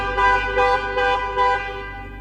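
A Ferrari Portofino's car horn, set off by the key fob, toots several times in quick succession, steady harmonic bursts roughly evenly spaced, fairly loud and close.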